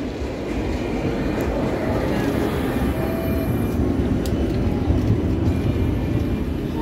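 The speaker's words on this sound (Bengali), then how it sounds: "ট্রাম চলে এসছে।" A tram arriving makes a loud, steady rumbling roar with a faint high squeal, filling the whole stretch without clear breaks.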